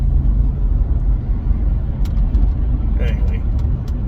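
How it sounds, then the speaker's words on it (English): A big truck's engine idles steadily at a gas station pump, a close, continuous low rumble with faint voices underneath. "I hope that truck doesn't back up"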